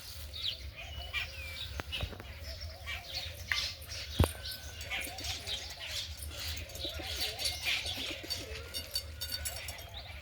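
Domestic pigeons in a loft coo softly and repeatedly nearby, joined by brief wing flaps and small chirps, moderately faint, with no talking.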